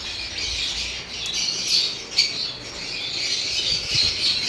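Lovebirds at a pet market in Malabon chatter with sharp squawks and high chirps, a busy layered chorus of many birds calling close by, with sudden louder cries standing out and no speech.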